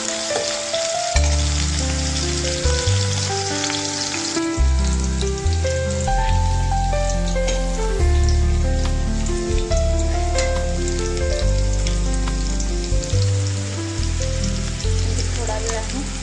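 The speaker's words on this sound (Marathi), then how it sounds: "कडपणाची आपली फोडणी तयार करायची आपल्याला" Tempering sizzles steadily in hot oil for a Marathi sour-spicy chukka varan dal, with a loud, continuous frying crackle and occasional stirring and tonal clinks over it.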